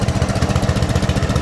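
A Troy-Bilt Suburban riding mower with a 14 HP Kohler Command engine, about 16 years old, runs at a steady idle, its loud, close putter pulsing in an even rhythm with no one speaking.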